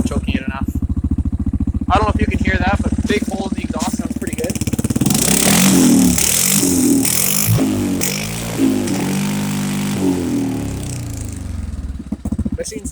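An early 2000s Yamaha motorcycle with choke applied idles with a rapid, even putter, then revs up loudly in several sharp bursts before settling back, heard up close.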